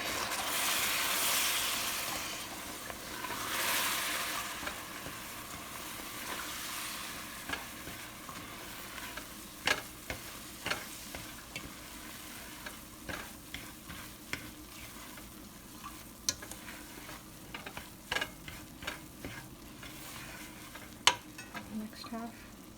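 Mung dal halwa is stirred in a pan with the stove off, a soft sizzle fading early, then a run of scattered scraping and tapping strokes of the spoon, fairly quiet and close.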